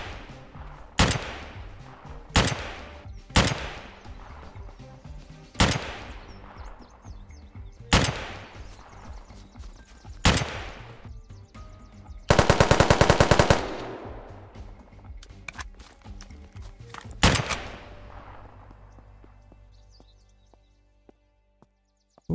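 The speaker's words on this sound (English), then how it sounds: "Who's sniping?" Sniper and gunfire in the video game Unturned: loud single rifle shots spaced a few seconds apart, one dense burst of automatic fire midway, then quiet ambience with faint birdsong as the shooting stops.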